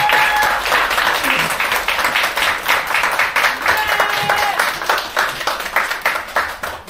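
A lecture audience claps warmly to welcome a speaker at an insurance-sales coaching session, producing loud, dense applause that continues steadily for several seconds.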